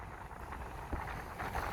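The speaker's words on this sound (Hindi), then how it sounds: "बहुत तेज़ हवा चल रही है इस" Strong wind blowing outdoors beside the Yamuna river in Uttarakhand, buffeting the microphone as a constant low rumble with brief stronger gusts.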